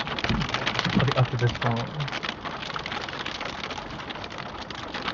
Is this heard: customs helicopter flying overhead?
no